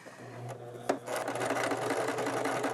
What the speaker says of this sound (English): so we're going to stitch that one in place